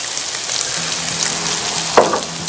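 Mushrooms, garlic and broccoli hit a hot cast iron pan and sizzle loudly and steadily at close range, with a brief splash-like burst near the end and no voices.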